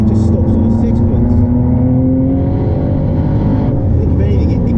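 A Ford GT supercar in sport mode accelerates hard, its engine note climbing in loud rising sweeps before easing off, with a person talking over the drive.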